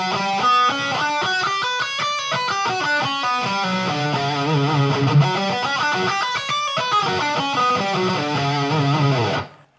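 Distorted electric guitar runs through the Hirajoshi scale, a quick run of single notes climbing and descending, loud and continuous with no talking, stopping abruptly at the end.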